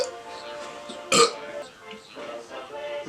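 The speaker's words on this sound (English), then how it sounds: "burping" A man burps once, short and fairly loud, while drinking and reviewing beer, with speech-like voice sounds around it.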